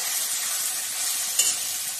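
Spice paste hits hot oil already holding fried cumin seeds and dried red chillies, giving a close, steady, even sizzle that continues without a break, with no one talking.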